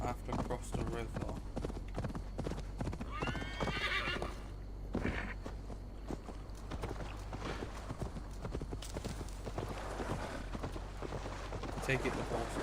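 A horse gallops and neighs in Assassin's Creed Valhalla while crossing a river, with quick rhythmic hoof clip-clop, a whinny partway through, and a person talking over the game audio.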